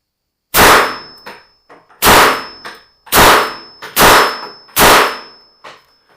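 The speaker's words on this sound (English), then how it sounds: "grab the charging handle, fire a few shots" Five loud, sharp gunshots from a Chiappa CBR-9 carbine at a shooting range, fired at a steady pace about one second apart, each with a brief ringing decay.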